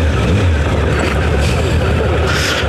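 A Honda CBR1000F motorcycle engine pulling away, a steady low rumble with wind and road noise, close and fairly loud throughout, without talk.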